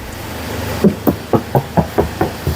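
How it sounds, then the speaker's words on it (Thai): Knuckles rap about eight times at a steady pace on the door of a Hyundai H1 van lined with sound-damping material inside and out, each knock a short, dull, close thud with no voices. "อันเราเคาะให้ดูนะครับ"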